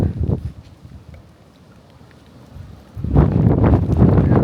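Cold wind gusts by a harbor in Japan buffet the microphone in rough, low rumbling bursts, easing to a quieter hiss in the middle before surging strongly again.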